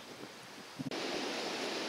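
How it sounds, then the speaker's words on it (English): Steady wind roaring across the microphone outdoors beside a canal on a cold late-winter day, a broad rushing noise that drops for a moment and then returns louder and constant. "It's also very windy"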